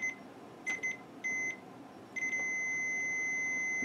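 A multimeter on continuity test emits short electronic beeps, a couple of brief ones followed by a steady sustained tone, close and clear with no talking.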